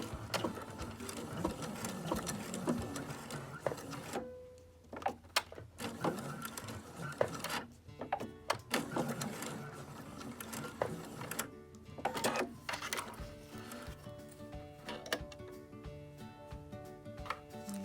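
A sewing machine runs stitches along a fabric lanyard in several bursts of rapid, even mechanical chatter. Brief pauses separate the runs, and the motor hum sits close and clear with no voices.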